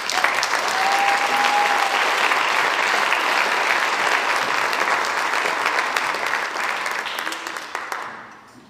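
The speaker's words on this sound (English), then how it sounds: "round of applause for our Outstanding Seniors of the Year in German." Applause for award recipients at a senior awards ceremony, sustained dense clapping from a sizable audience that holds steady for about eight seconds before tapering off at the end.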